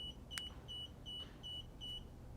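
Repeated short electronic beeps from a Super73 e-bike's wireless alarm lock, five evenly spaced tones, clear and close over a low steady hum.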